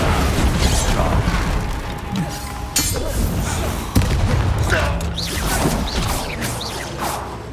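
Bombarda blasting spell explosion from Hogwarts Legacy, sharp cracking blasts and clinking debris amid loud busy game sounds, with a few distinct impacts.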